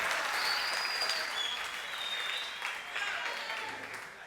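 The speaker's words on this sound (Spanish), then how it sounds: "Denle un aplauso al Señor." A congregation at a church conference breaks into sustained applause, a dense wash of clapping that holds steady and tapers slightly, with a voice faintly over it.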